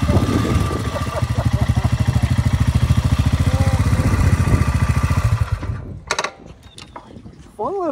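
Royal Enfield Himalayan motorcycle engine thumping steadily at close range, a loud pulsing single-cylinder beat that runs for about five seconds before cutting off, followed by brief talk and a faint tonal sound.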